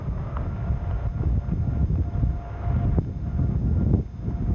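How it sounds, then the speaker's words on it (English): Gusty wind from a tornadic supercell storm in Fritch, Texas buffets the microphone with low rumbling roar, surging and easing in waves, close and alone without talk. "Wind's getting up a little bit, not bad yet."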